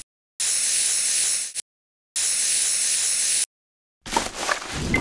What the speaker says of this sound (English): Turn on the fan and spray the air freshener right into it.